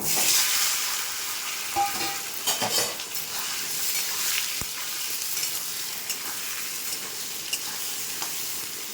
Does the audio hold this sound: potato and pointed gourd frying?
yes